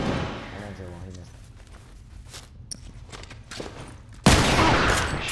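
A shotgun blast in The Last of Us Remastered multiplayer lands as one sudden loud burst near the end, after quieter stretches of footsteps and scattered gunfire, with someone talking over the earlier part.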